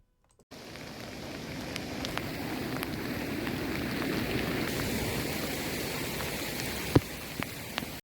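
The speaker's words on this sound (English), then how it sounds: "it is starting to rain and the sky's not looking good" Rain falls steadily on a remote beach campsite on Costa Rica's Nicoya Peninsula, a constant close hiss that starts abruptly after a brief silence, with a few sharp drip-like ticks and taps scattered on top.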